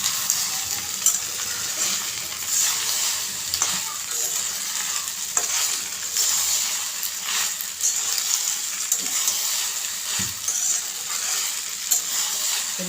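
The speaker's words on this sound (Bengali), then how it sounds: "এখানে আমি পাস্তা মশলাটাকেও নেড়ে মিশিয়ে নেব।" Egg pasta fries in a pan with pasta masala while a spoon stirs it, giving a steady close sizzle broken by repeated scraping and clinking against the pan.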